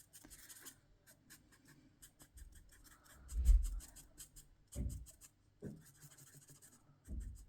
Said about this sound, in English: I'm not very good at colouring in,